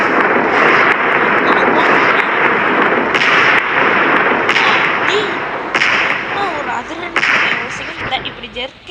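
Firecrackers in the Diwali Simulator video game burst in a dense, continuous barrage of loud crackling explosions, with heavier bangs recurring every couple of seconds over a constant roar.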